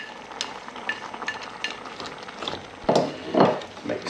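Blanched runner beans are stirred into a hot and spicy chutney in a pan, soft sizzling under scraping spoon strokes and a few louder clunks near the end, close by.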